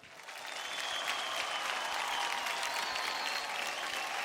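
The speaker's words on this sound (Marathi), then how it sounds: "त्यामुळे ह्या स्टार्स करता जोरदार टाळ्या होऊन जाऊ द्यात" A studio audience at a Marathi dance competition show claps for celebrity guests, a steady, full burst of applause that holds evenly throughout without talk.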